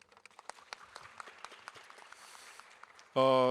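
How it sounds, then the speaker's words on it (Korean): Light, scattered clapping from the audience in the grand ballroom of the 2026 Incheon International Ocean Forum, fairly quiet and uneven, cut off near the end by a sudden loud tonal musical sting. "다시 한 번 더 이정 교수님 발표에 감사의 말씀을 드리고 큰 박수 부탁드립니다"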